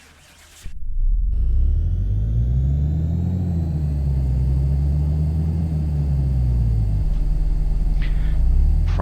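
Engine of a 1965 Mini Cooper in Car Mechanic Simulator 2018 running on a dyno, a loud, steady low rumble that starts abruptly and holds with a slight rise and fall in pitch, alone without talk.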